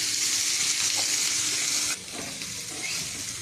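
Loud, steady sizzling of a cutlet frying in a little oil in a pan, a bright continuous hiss that drops slightly partway through as it settles.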